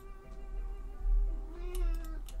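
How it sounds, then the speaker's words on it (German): A cat meows in the survival game Project Zomboid, a few short cries rising over a steady low in-game hum, moderately loud with no talk over it. "Und da kommt die Katze an."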